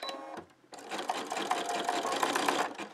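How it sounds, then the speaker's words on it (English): A sewing machine back tacking on an embroidered rope bowl, a close, fast steady whirring run after a brief pause, loud and continuous until it stops near the end. "I'm just going to back tack."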